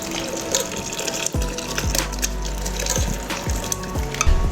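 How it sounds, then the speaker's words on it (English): Thick homemade barbecue sauce pours into a blender, a continuous wet gushing and glugging with a few knocks against the container, and no voices. "We're just going to take this right over to our blender and pour everything right in here."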